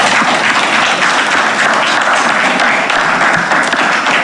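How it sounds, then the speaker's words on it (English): A town hall audience at a gang violence meeting in Bermuda gives a loud, sustained round of applause, dense clapping filling the room steadily throughout. "Can you give them a round of applause?"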